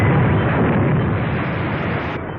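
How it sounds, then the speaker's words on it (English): A 3-inch artillery shell bursts nearby, filling the stretch with a loud, dense roaring rumble that stays heavy and sustained, then thins slightly toward the end, with no talk over it. "That's a 3-inch shell they're firing at us"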